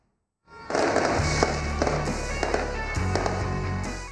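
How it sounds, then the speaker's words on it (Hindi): Fireworks display at Aladdin Park in Karachi, a crackling barrage of bursts with distinct loud pops every half second or so over continuous fizzing, starting suddenly after a brief silence. "अलादीन पार्क में शानदार आतिशबाजी का मुजाहरा किया गया"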